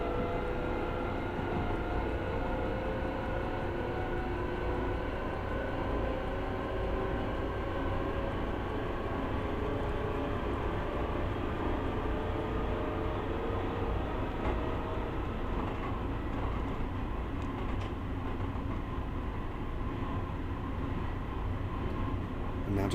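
A Long Island Rail Road train in the video game Train Sim World rumbles and hums steadily on the track, a continuous loud drone with whining motor tones and no break for the whole stretch.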